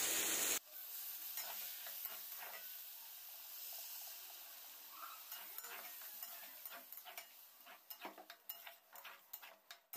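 A chicken and potato curry hisses and bubbles in a pan over low heat after water is added, a sharp burst at the start settling into quiet sizzling with irregular stirring clicks.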